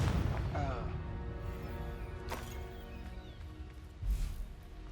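A Confringo blasting spell is cast in the video game Hogwarts Legacy, heard as a dull booming impact over a steady game backdrop and low music, with a stronger thump near the end.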